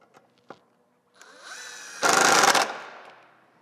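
Power tool whirring as it runs a bolt down on an El Diablo Low Rider ST motorcycle, a rising spin-up followed by a loud, dense burst near the mic for about half a second before it winds down, with a few light clicks beforehand.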